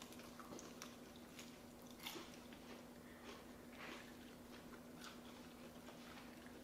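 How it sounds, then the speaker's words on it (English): Crunchy Korean fried chicken being bitten and chewed nearby, a series of faint, sharp crackling crunches spaced irregularly over a quiet room background with a low steady hum. "We can hear the crunch all the way over here."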